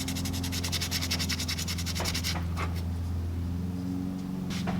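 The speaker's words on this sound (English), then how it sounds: "As I pick up more sandpaper and keep sanding." Sandpaper rubs in quick repeated strokes against a handmade bluegill swimbait, a rapid scratchy rasp that stops partway and returns as a few short scrapes, heard over a steady low hum in a workshop.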